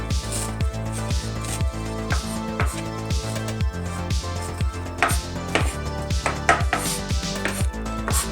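Knife finely chopping tuna patty mixture on a cutting board, a fast, steady run of sharp close taps that carries on without pause.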